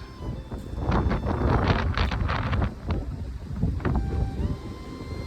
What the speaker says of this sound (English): the wind is still really blowing through